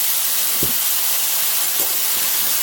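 Tuna fish sauce hisses and sizzles steadily in a hot pan of kimchi fried rice, a continuous close broadband spitting with faint low thumps.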